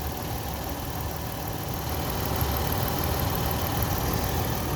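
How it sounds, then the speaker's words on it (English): A healthy 4-liter V6 engine in a 2013 Toyota 4Runner runs at a steady idle, an even, continuous rumble close by with no talking. "So really good running motor."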